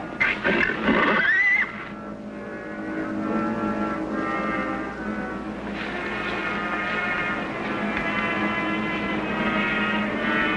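A horse whinnies loudly and close for about two seconds, followed by a long low engine-like drone that fills the rest of the clip.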